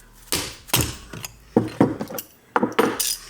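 Ratchet cranking a 14mm bolt loose on a Toyota W56 manual transmission from a 22RE, a series of sharp close metallic clicks and clunks in several uneven bursts with brief pauses between them.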